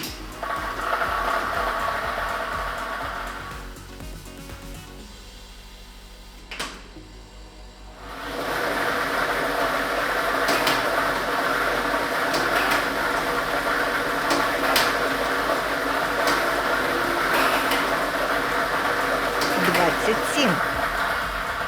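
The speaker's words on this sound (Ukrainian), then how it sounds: "І ми вмикаємо лототрон" A Ukrainian state lottery ball-drawing machine for Loto Maksyma with ball set number one starts up, a steady whirring, rattling churn that swells after a brief quieter gap and continues under a presenter's talk.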